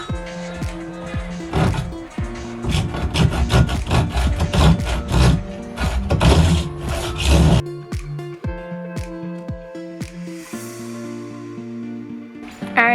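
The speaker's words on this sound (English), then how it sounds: "got a fancy saw that cuts through PVC" Saw cutting through PVC pipe inside a school bus being converted, with rapid, rasping back-and-forth strokes for several seconds, then a pause with scattered knocks and handling.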